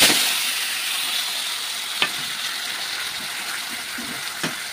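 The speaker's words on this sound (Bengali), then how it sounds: "এই কচুর শাক সিদ্ধটা ঢেলে দেবো।" Boiled kochu shak (taro greens) is poured into a hot pan of tempering with dried chillies, giving a steady close sizzle and hiss with a few sharp clinks and splashes as it settles.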